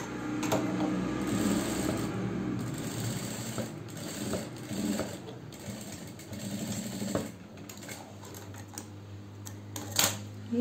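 A sewing machine runs steadily while stitching a half collar onto a kurti neckline, its rapid mechanical chatter continuous and fairly close, with a few small knocks and clicks toward the end and no talking.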